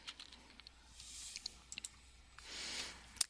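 A name is typed on a computer keyboard, producing scattered light key clicks with irregular rhythm and a couple of softer rustling swells, close and fairly quiet.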